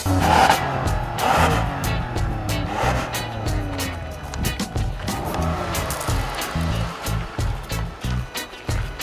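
A 2014 Toyota Sienna minivan engine revving and accelerating up close, with a steady broad roar, some tire noise, and a brief voice in the background.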